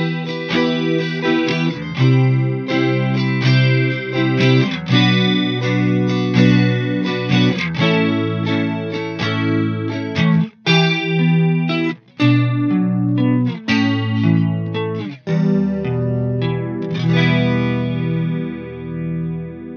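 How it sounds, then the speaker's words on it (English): Guitar played through a chorus modulation effect, a shimmering doubled tone with slight pitch wobble, loud and continuous with a run of chords and short breaks between phrases. "we're just going to change the pitch ever so slightly on top, which is going to create the chorus effect"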